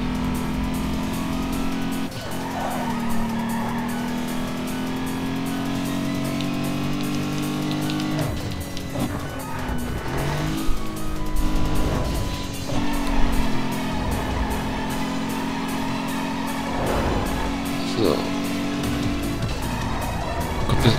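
Racing car in the video game Need for Speed Underground 2, a steady loud engine drone with brief tire squeal and skid as it steers sharply, continuous throughout with no talk.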